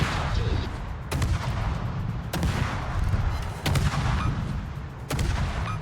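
Warship main batteries fire in World of Warships, four heavy booming salvos roughly a second and a half apart, each a sharp crack over a constant low rumble of engine and sea noise.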